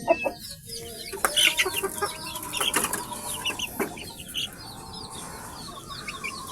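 Young chicks cluck and peep at wheat feeding time, a flurry of soft overlapping calls with scattered louder chirps, fairly faint and close, with no one speaking.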